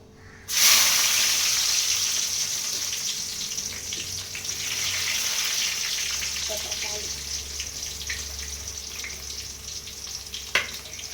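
Onions dropped into hot oil for Tamil fish curry burst into a loud sudden sizzle that settles into a steady close hiss, with a few faint clinks and a sharp knock near the end.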